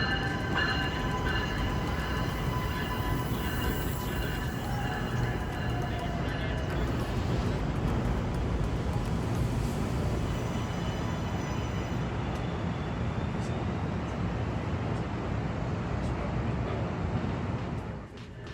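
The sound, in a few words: train pulling into station platform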